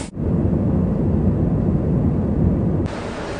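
Airliner landing at Kolkata, a loud continuous low roar of engines and rushing air filling the cabin, steady throughout and then dropping slightly near the end.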